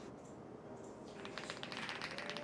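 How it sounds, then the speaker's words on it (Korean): Keys clatter in a quick run of light, close taps on a keyboard, starting about halfway through and growing busier, with a soft room hum underneath and no speech. "키보드 소리 좋죠?"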